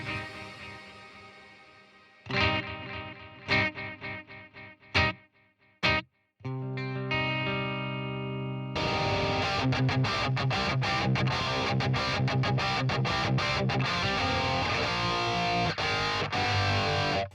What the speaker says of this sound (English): I also have a shimmer reverb.